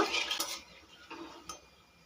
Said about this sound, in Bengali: গোটা মশলাগুলো কয়েক সেকেন্ড নাড়াচাড়া করে নেব।